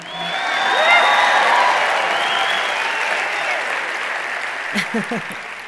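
A large audience at a church talk breaks into loud, sustained applause mixed with cheers and whoops, swelling quickly and holding strong before tapering off, with a speaker's voice briefly resuming near the end.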